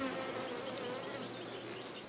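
Honey bees buzzing over a hive frame holding brood and pollen, a dense close continuous hum of many insects with a faint higher whine, steady throughout, no talk.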